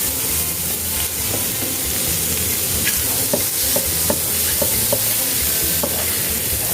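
Shrimp and squid stir-fry in a pan with chili and garlic, giving a steady loud sizzle broken by scattered clicks and scrapes of a utensil against the pan.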